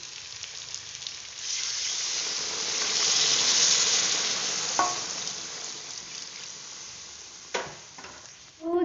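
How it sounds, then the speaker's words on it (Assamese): Hot water poured into a half-fried mixture in a hot pan for a curry, giving a steady sizzling hiss that swells and fades, with a few clinks of utensils near the end. "জোল বনাম সেয়ে ইয়াত গৰম পানী দি দিলোঁ"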